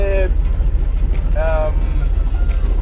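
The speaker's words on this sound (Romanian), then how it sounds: "mașinuța aia din Italia care cară fructe, ca un fel de tuk-tuk" A Piaggio Ape three-wheeler tuk-tuk engine chugs steadily and loudly up close, with a couple of brief horn-like tonal blips riding over the rough motor drone.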